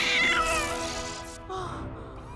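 A cat in a Doctor Who episode gives one drawn-out meow followed by a shorter second cry, both close and clear, with a light background hum.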